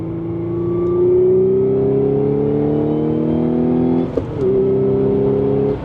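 A 2016 Audi S5 with a manual gearbox and stage 3 clutch, its engine climbing steadily in revs while driving, a loud droning rise that briefly dips around a shift before settling again.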